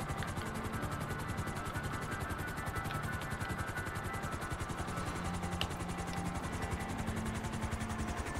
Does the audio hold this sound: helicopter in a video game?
yes